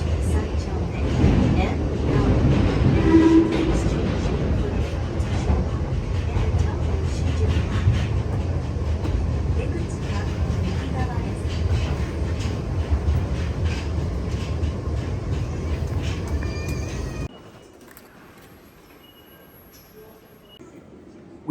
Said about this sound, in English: we're taking the train heading to Ikebukuro direction